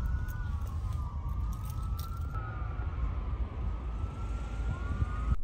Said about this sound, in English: These sirens are ruining my intro